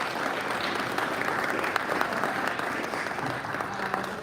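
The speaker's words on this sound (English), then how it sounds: "Round of applause." A Rotary club audience gives a steady round of applause at a meeting, a dense, even wash of many hands clapping that continues at full strength throughout, with faint voices underneath.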